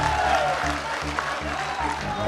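A Congress election rally crowd claps in a continuous wash of applause, with a low, pulsing hum running steadily underneath throughout.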